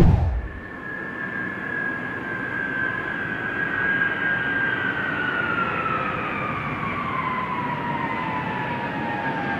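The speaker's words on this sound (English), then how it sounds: "We're bringing this airplane here. It's its last flight." A retired Air Force cargo airplane flies its last flight to the Boneyard, a loud, continuous engine roar with a whining tone that slowly glides downward, with no talk over it.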